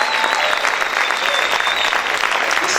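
A church congregation claps loudly and steadily during a Spanish-language sermon, dense continuous applause filling the whole stretch with no speech over it.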